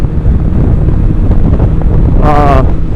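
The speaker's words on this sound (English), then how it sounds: "wow, that wind is fucking crazy" Strong wind buffets an outdoor microphone during a stormy day at a mountain track meetup, a steady loud broadband roar throughout, with a brief tonal whine near the end.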